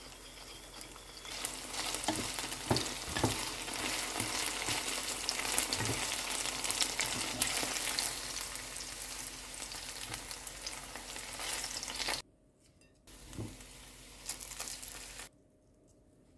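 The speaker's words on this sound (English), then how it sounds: "put the eggplant and let it fry for 5 to 8 minutes until lightly brown" Continuous close sizzling of eggplant frying in a hot pan, with occasional soft taps and stirring, then brief silences and a shorter burst of sizzle near the end.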